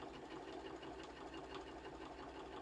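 A sewing machine fitted with a walking foot stitches along a quilt seam with a faint, steady, rapid mechanical chatter that runs evenly throughout.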